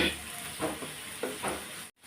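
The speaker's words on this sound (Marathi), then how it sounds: "कांदा, असा छान तेलामध्ये परतून घ्यायचा, असा तांबूस रंग येईपर्यंत।" Two large onions, finely chopped, fry in oil on a tawa while being browned for a dhaba-style egg masala. A faint, steady sizzle carries a few soft stirring swishes and stops abruptly near the end.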